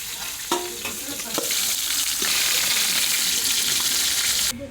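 Hilsa fish frying lightly in a pan, a steady close sizzle with a few sharp clinks and scrapes early on, the hiss growing denser and louder toward the end with no talking.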